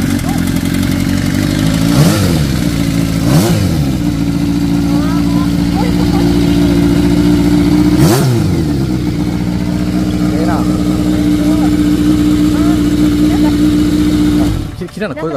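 Vintage Kawasaki Z400FX motorcycle engine running at a steady, smooth idle, loud and close, with a few brief blips of revs, while people talk over it.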